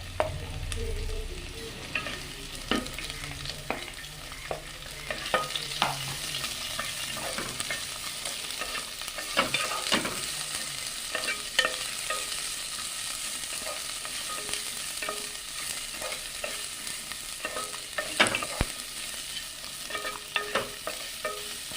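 Shallots sauté in hot oil for a mutton roast, a steady low sizzle and frying crackle punctuated by repeated sharp clinks and scrapes of a stirring spoon, close and moderately loud with no talk.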